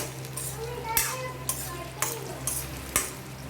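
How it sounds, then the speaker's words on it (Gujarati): A spoon stirs dried red chillies and garlic frying in oil in a pan, a steady sizzle under rhythmic scraping strokes roughly every half second, close and clear. "સતત આપણે ચલાવતા રહીશું જેથી આકરા ન થઈ જાય।"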